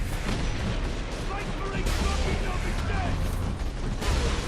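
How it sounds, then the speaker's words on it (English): Sniper rifle fire in Warhammer 40,000: Space Marine, repeated heavy shots over dense, continuous battle noise, with a player talking over it. "we will use this sniper to take them down"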